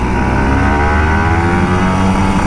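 A loud engine drones steadily with a slight rise in pitch, close and continuous, as an old Kawasaki Ninja RR 150 motorcycle is gently revved.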